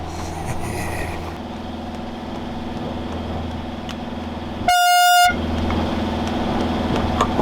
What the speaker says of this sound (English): Sorry, just testing the air horn.